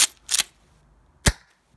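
A toy shotgun that fires three shots at once goes off in a few sharp, close cracks: two quick bursts, a pause, then one more snap, with no talk.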